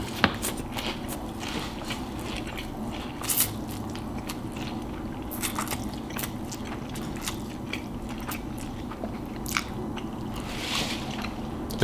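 Wendy's Hot Cheetos noodles being eaten up close for a mukbang, with steady wet chewing, squishing and soft crunchy bites repeating throughout and no talking.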